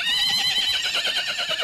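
A horse in ornamental metal armour, harnessed to a large carriage, lets out a sustained, loud, wavering neigh that fills the short moment on its own.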